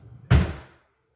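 A kitchen drawer shuts with a single solid thud that decays quickly into silence.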